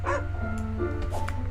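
Game dog in a frog-themed video game giving a few short, close yips and barks over steady background music, with no talking.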